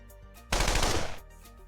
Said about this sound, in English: I'll order the airstrike now.